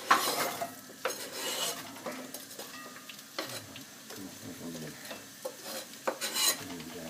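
Onions and celery in olive oil being stirred in a pan, with scattered clinks and scrapes of a utensil against the pot over a faint, low sizzle; no talking.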